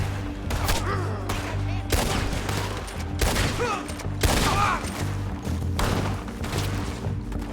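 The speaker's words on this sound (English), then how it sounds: "Told you I could shoot a gun, didn't I?" Gunfire in the video game Red Dead Redemption 2: a dense fusillade of loud, repeated shots and booms, with voices shouting over the battle.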